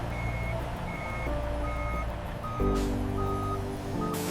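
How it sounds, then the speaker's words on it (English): A truck departs from a loading dock at a snake leather factory, its reversing alarm beeping in a steady repeated rhythm over a loud, continuous engine rumble, with an air-brake hiss near the end. "The truck departs, carrying the products to their destinations."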